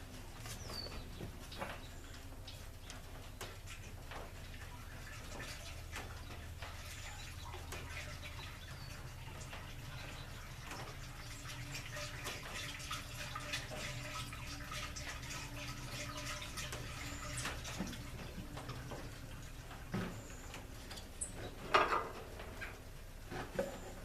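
Water draining out of a radiator, a long, low, steady trickling wash that goes on throughout, fairly faint, with a few brief knocks near the end.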